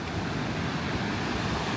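Big swells of brown seawater surge against massive sea defences and a rusty-legged pier on the Norfolk coast, a steady, close, broadband wash of surf with wind rumbling across the microphone throughout.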